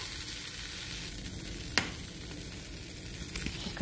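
Butter sizzling and frying steadily in a pan for an egg, a dense continuous crackle up close with one sharp click partway through and no speech.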